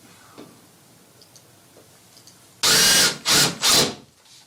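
Power drill driving screws into a wall to mount a curtain rod bracket: three loud, close whirring bursts of under a second each, following quiet handling noises and a few faint taps.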